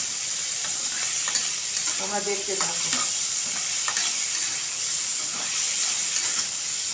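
Ginger and cumin fry in oil for egg khichdi with a continuous, close, hissing sizzle and occasional stirring clicks, while a voice speaks briefly.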